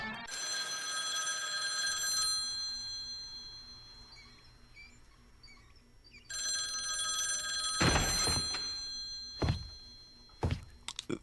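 Telephone in Devil May Cry 3 rings in bright, repeated electronic bursts, pausing in between, joined later by heavy thunks and a couple of sharp impacts, with no talking.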